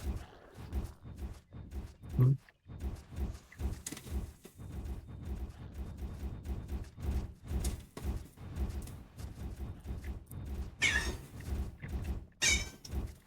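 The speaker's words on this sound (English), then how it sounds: "That was actually a kind of normal sounding meow and not really demonic." A pet cat meows a few times indoors, fairly faint and mixed in among scattered rustles, bumps and other small household noises.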